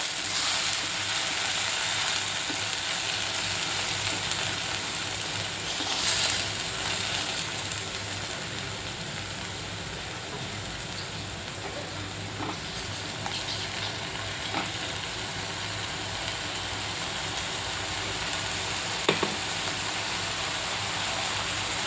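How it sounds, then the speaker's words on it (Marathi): Tomato puree sizzles and sputters steadily in a hot pan for a bhendi masala, a constant moderate frying hiss with occasional stirring scrapes, no talking. "यात 2 छोट्या टोमॅटोची प्युरी टाकते। चांगलं परतून घ्यायचं।"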